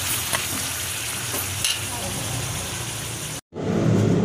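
Marinated pork for igado fries in a hot pan, giving a loud, dense, continuous sizzle close by that drops out briefly near the end and then resumes.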